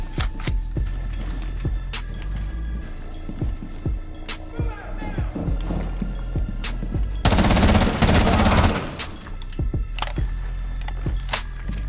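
Rapid automatic gunfire in a Rainbow Six Siege match: repeated sharp cracks, a dense sustained burst in the middle, with game effects and a player talking throughout.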